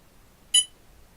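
A micro RC model's electronics give off a single brief, high-pitched electronic beep, clear against near silence.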